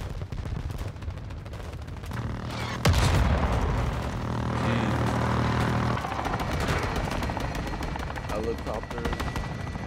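Helicopter rotors drone amid bursts of rapid gunfire and heavy booms in the Call of Duty Modern Warfare 2 video game campaign, a dense, continuous battle mix with a deep thump partway through.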